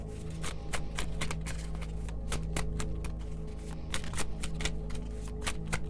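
Oracle cards being shuffled by hand, a dense run of crisp flicking riffles and taps over a steady low hum, close and continuous.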